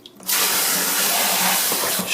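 Steady hiss of water streaming from a garden hose into a reservoir in an indoor grow room, starting abruptly after a brief quiet moment and running loud and continuous to the end.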